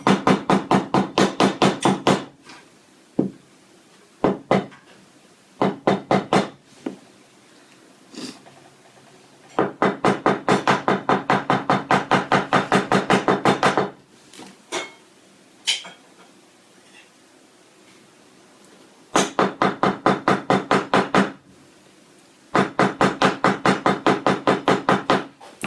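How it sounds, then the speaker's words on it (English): A head pin gets hammered flat for earrings in rapid bursts of sharp metallic taps, close and loud, separated by pauses and a few single strikes. "we're actually going to hammer probably about that far up our head pin"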